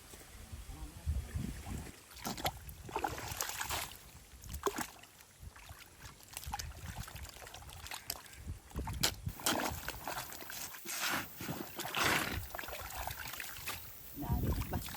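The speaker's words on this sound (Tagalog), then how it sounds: "Lalagyan lang natin ng kanal para tuloy-tuloy yung agos doon pababa." Water running down a dug drainage canal through a flooded papaya field, a steady rushing, trickling flow with uneven surges, heard outdoors close by.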